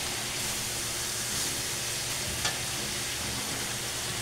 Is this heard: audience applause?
no